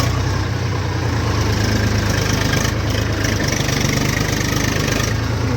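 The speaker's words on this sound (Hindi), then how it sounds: "अब चेक करते हैं ट्रैक्टर फोर्थ गियर में मैड कैसे चल पाता है या नहीं" A tractor engine runs hard in fourth gear at full throttle, a loud, steady, close diesel drone with a low knocking pulse throughout and no talking.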